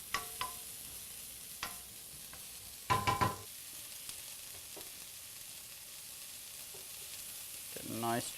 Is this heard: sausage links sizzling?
yes